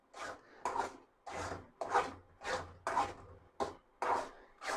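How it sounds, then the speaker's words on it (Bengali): Chickpea lentil halwa being stirred nonstop in a pan, a spoon scraping the bottom in about nine steady, evenly spaced strokes, close and clear with no talking. "অনবরত নাড়তে হবে।"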